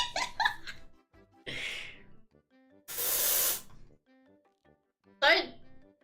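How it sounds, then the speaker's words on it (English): Deodorant aerosol can sprayed in a bursts, a sustained hissing spray of a second or so standing out among short bursts of people talking and laughing nearby. "Deodorant. It's deodorant."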